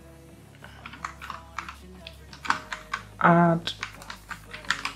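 Close computer keyboard typing as a command is entered at a command prompt, with a run of quick, sharp key clicks and a pause around a brief spoken word.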